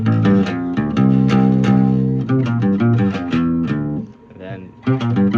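Electric guitar in drop tuning plays a riff, with choppy, rhythmically tight chords and single notes that pause briefly near the end before the figure resumes, close and fairly loud with no talking.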